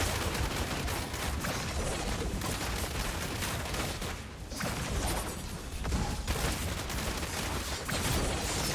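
Demon hunter sniping in Diablo Immortal during a team battle around an idol, a dense, continuous wash of loud game combat with rapid shots and impacts throughout, no speech.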